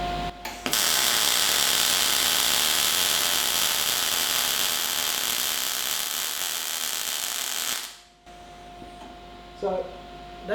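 A MIG welder lays a bead on steel plate with a loud, steady, close crackling hiss that runs unbroken for about seven seconds before the arc cuts off and the room goes nearly quiet.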